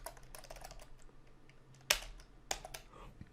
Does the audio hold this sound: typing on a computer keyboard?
yes